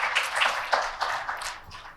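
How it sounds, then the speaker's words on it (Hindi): Scattered clapping from an audience at a doctors' national award ceremony, moderately loud and uneven, a few sharper claps standing out. "एक जोरदार तालियां आप सबके लिए"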